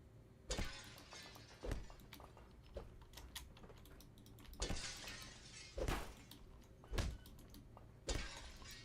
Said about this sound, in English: So some of this is breakable glass,